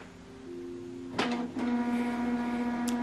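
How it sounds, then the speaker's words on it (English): A Canon TR4650 printer printing a double-sided document whirs into action with a couple of mechanical clunks, then settles into a steady, close motor hum. "Right now it's preparing the printer."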